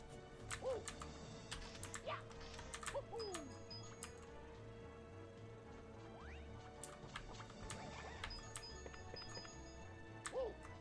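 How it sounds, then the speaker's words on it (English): Rapid clicks of a computer keyboard during a Super Mario 63 playthrough, irregular bursts of close key taps alongside faint game sounds and tones, with no talking. "You're probably hearing a lot of keyboard stuff right now."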